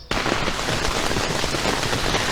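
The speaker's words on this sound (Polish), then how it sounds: "Ale zacina deszcz, chyba musimy się tu przymknąć" Rain falling at a campsite, a steady, dense hiss that starts suddenly and continues evenly throughout, with no voices.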